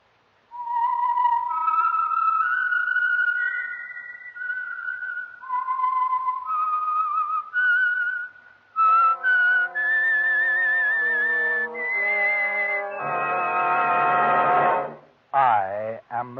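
The whistled theme of the radio program The Whistler plays loud and clear, rising and falling, joined by sustained orchestral notes toward the end.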